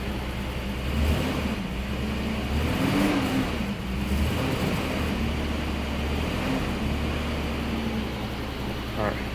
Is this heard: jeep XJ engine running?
yes